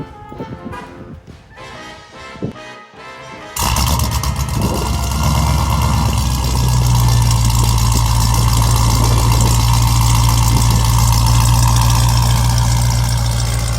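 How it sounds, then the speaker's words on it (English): A 1300-horsepower Jeep Trackhawk with an aftermarket exhaust starts and settles into a loud, deep, rumbling idle that holds steady for about ten seconds after some quieter, choppy sound beforehand. "if it's gonna look right, it's also gotta sound right. So exhaust was the next move for me."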